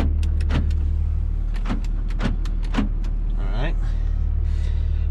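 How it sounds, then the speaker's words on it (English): Power door locks cycle inside the cab of a 2004 Dodge Ram diesel pickup, a run of sharp, close mechanical clunks in quick succession over a low engine hum, followed by brief talk. "let's do the door locks from inside the truck"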